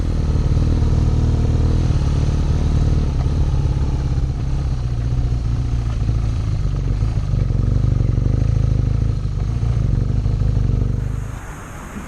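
A BMW R nineT Urban G/S motorcycle engine running with a steady, close, deep throb and mechanical clatter that holds for most of the time, then drops off near the end.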